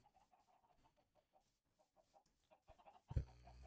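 Minecraft chickens cluck softly in a series of short, faint calls, joined near the end by a sudden louder thump.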